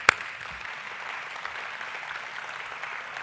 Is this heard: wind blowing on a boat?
no